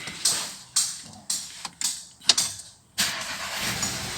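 A Volkswagen car answers its key fob with a run of sharp mechanical clicks and clunks, then a steady low engine rumble sets in and holds close by.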